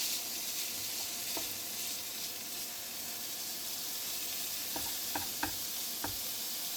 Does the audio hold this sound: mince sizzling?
yes